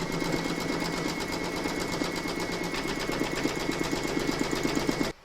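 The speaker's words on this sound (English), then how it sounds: "Pop your hoop into your machine and stitch round number 2 to secure it." An embroidery sewing machine stitches batting held in a hoop, giving a steady, fast mechanical whirring with rapid needle ticks that runs close and constant, then stops abruptly.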